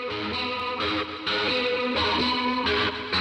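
Synth patch imitating a chorus-drenched post-punk guitar, shimmering and thick with distortion, playing a continuous riff up close with no voices.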